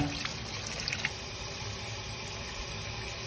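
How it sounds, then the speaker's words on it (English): Tap water running steadily into a pot of soaked, rinsed red beans for New Orleans-style red beans and rice, a soft continuous splashing trickle with a few small clinks near the start. "We get the water filling it back up again."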